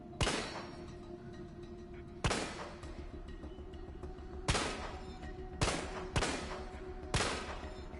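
Six single gunshots from a Resident Evil 3 firearm, each a sharp loud crack with a short decaying tail, spaced irregularly about a second or two apart over a steady low background hum.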